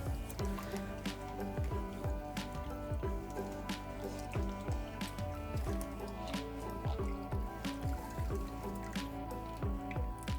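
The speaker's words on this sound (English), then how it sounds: "soak your mouse pad to get all that soap out of there" A cloth mouse pad is soaked and squeezed in water to rinse out soap, giving continuous squishy, sloshing, dripping wet sounds up close.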